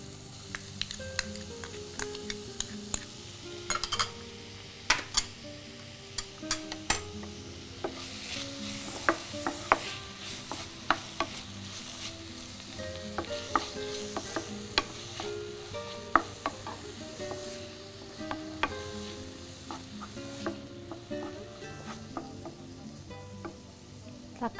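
Onions sautéing and being stirred in a pan as tomatoes are added, a steady sizzle of frying broken by frequent scraping clicks of a spoon against the pan, close and continuous throughout with no talking.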